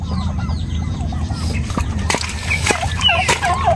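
Jersey Buff breeder turkeys call with repeated short honking gobbles at a perch area, moderately near, over a steady low rumble of background noise.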